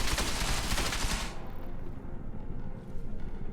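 Dense burst of automatic gunfire in Deus Ex Mankind Divided, loud and close for about a second and a half, then cutting to a low rumbling aftermath.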